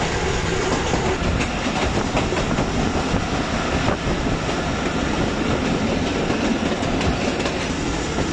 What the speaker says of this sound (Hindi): 127 अब महर एक्सप्रेस बुध रेलवे स्टेशन पर पहुंच रही है।